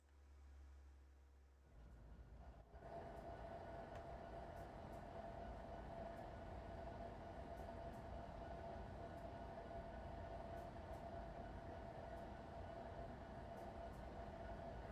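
A train running in the Trainz 2022 simulator: a steady rolling rumble with a constant mid-pitched drone builds after a quieter start, with faint periodic rail clicks over the whole stretch.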